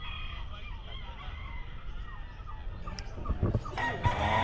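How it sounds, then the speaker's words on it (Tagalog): A rooster crows at a busy outdoor pet market, a short hoarse call rising over a steady murmur of crowd noise and voices. "Ayan, manok lang."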